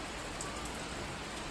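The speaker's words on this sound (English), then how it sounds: "It's raining outside." Rain falling outside, a faint, even hiss of drops on surfaces with no distinct thunder or voices, steady throughout.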